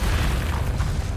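A short, heavy explosive boom from the Confringo fire spell in Hogwarts Legacy, a dense low rumble that holds steady and close for about a second.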